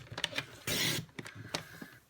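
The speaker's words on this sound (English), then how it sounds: "So I'm just going to bring back the trimmer. And we're going to cut this down a little bit." A paper trimmer slices through cardstock, with light clicks and slides of the blade carriage around one short rough cutting swipe, all close and quiet.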